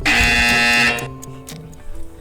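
A team presses the buzzer on a televised Independence Day quiz show, sounding one loud, harsh electronic blare for about a second before it cuts off into room ambience.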